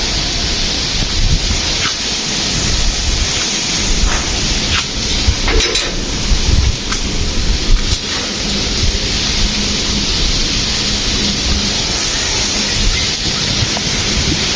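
Heavy rain pours down in a dense, steady roar close by, with a low rumble of thunder mixed into the constant wash of noise and no pauses throughout.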